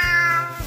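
An angry house cat meows in protest at a Christmas tree being taken down, one drawn-out loud meow close by, with the start of another at the end.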